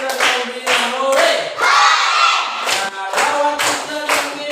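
Elementary school classroom of children shouting "hore" in unison, several loud, rhythmic group cheers in quick succession with clapping, close and filling the room.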